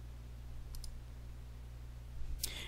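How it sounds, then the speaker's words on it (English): A computer mouse gives a couple of quick, faint clicks, then a sharper click a moment later, set against a quiet electrical hum in a room. "we're going to click on Create"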